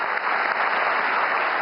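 At the Akhil Bharatiya Marathi Sahitya Sammelan in New Delhi, a large hall audience claps for a singer, giving a short, continuous burst of even, crowded applause with a muffled, dull tone.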